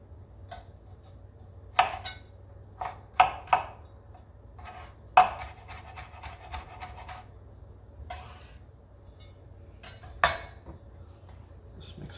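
Shrimp fritter batter being stirred in a bowl, with scattered light clinks and scraping knocks of a utensil against the bowl, quiet and close, no talking.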